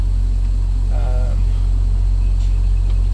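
Low, steady rumble from a semi truck engine idling while being parked at a truck stop, loud and continuous, with a brief higher tone partway through.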